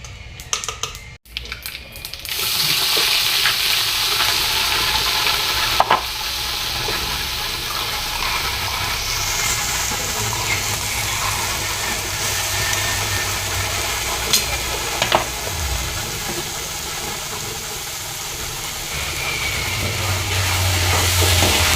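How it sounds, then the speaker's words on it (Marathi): A paste of coconut, onion, garlic and ginger frying in oil gives a steady hiss that starts after a brief clatter and runs on with occasional sharp scrapes and clicks, with no speech. "दोन तीन मिनटं आपल्याला ही पेस्ट छान तेलात परतून घ्यायची आहे"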